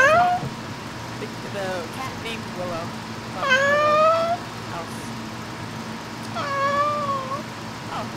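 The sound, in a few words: cat meowing in video game Phasmophobia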